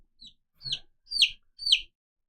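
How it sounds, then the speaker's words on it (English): Rooster calls, four short rising squawks in an evenly spaced sequence, fairly clear and alone with no talk over them. "Okay, this one is a rooster."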